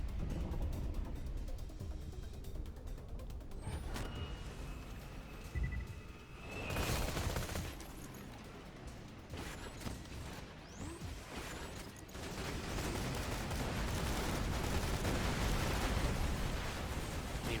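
Gunfire from the Retcher and Veruc weapons in a video game, loud bursts and crackling blasts mixed with mechanical clanks and rumbling explosions, heavy and continuous with no talking.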